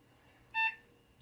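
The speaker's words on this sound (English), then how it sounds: "Whoa, it beeped once" A Compaq SLT286 laptop gives a single short electronic beep on boot, a clean tone standing alone over faint background hum.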